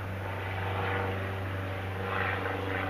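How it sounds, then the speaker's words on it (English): A steady, droning aircraft engine hum with a low propeller-like rumble, constant and fairly loud throughout. "Airplane."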